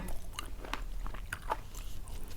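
Close crunchy bites and chewing of chewy, crispy food, a series of crisp crunches over a low steady background, with no talking.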